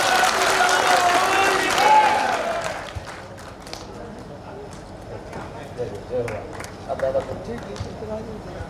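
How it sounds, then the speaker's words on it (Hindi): Audience applause at a large kirtan gathering in Chhatarpur, a loud dense burst of clapping for the first few seconds that quickly fades into scattered crowd noise and murmuring voices. "फिर से ताली बजाओ।"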